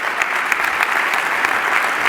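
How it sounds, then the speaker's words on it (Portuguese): An audience at a Lisbon debate event claps in a continuous, even patter to welcome the panelists, moderately loud and unbroken throughout. "batam uma salva de palmas"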